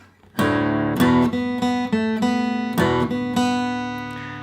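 An electric guitar plays the brisk opening passage of Cooley's Reel, chords ringing into a quick melodic line with even, steady picking.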